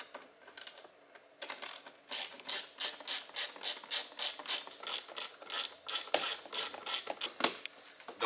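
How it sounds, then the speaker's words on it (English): A ratchet tool backs out two screws from a GMC Acadia front door panel with a quick, steady run of close, crisp clicking strokes, otherwise quiet. "Go ahead and remove our 2 screws."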